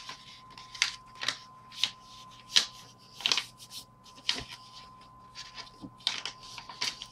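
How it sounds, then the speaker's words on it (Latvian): Paper being folded into an origami boat, a series of short crisp creases and rustles at an irregular pace, close and fairly quiet, with no voice. "Ņemiet augšējo un lociet uz augšu."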